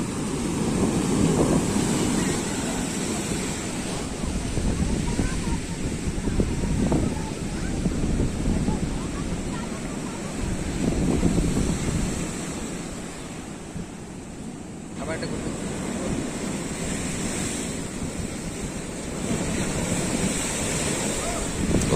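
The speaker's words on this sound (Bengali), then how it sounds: "ফ্রেন্ডস তোমরা দেখতে পাচ্ছ নিশ্চয়ই যে ঢেউগুলো কত কত বড় বড় ঢেউ পুরো দানবে ঢেউ" Giant waves at a full-moon spring high tide pound the sea beach in repeated swelling rushes, a loud, broad roar rising and falling every few seconds, with strong wind noise on the microphone.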